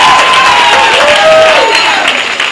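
An audience applauds and cheers at a rocketry club presentation, a dense burst of clapping filling the whole moment, loud and close.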